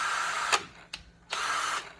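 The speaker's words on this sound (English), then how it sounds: "1/2-inch hammer drill I bought a long time ago" An old, well-used 1/2-inch hammer drill whines loudly in two sustained bursts with a short blip between, its high motor tone spinning up and cutting off, close by and alone.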